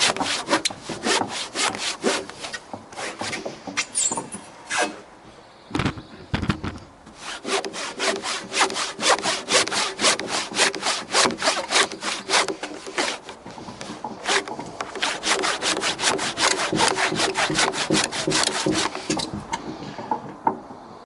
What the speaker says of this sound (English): let's come back in here with a handsaw. Okay, this one's dull.